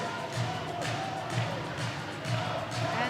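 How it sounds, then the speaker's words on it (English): A Polish crowd at a U20 European Championship volleyball match between Poland and Italy roars and cheers at set point, a steady loud wash of massed voices with rhythmic chanting pulses. "Polish crowd in here is going mad."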